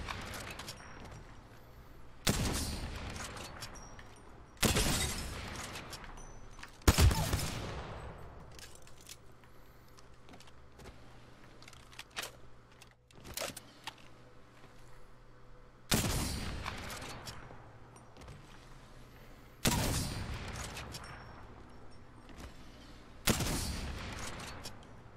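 A bolt-action rifle fires single loud shots spaced several seconds apart, each sharp crack trailing into a short echoing decay, with quiet gaps and faint handling noises between rounds outdoors.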